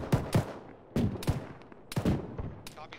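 Bursts of gunfire crack in a military video game, several loud close shots in quick clusters spread across the moment, with echoing tails between volleys.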